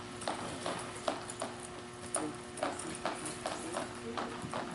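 Horse hooves clop on the ground of a round pen in an uneven, steady walking rhythm, fairly close, while a person talks over them.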